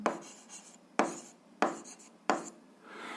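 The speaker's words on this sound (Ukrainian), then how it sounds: "Тобто записуємо, що на блок буде діяти сила F тяжіння." A pen writes a physics formula on paper, four quick, close scratching strokes each starting sharply and trailing off, evenly spaced and quiet, with no talking.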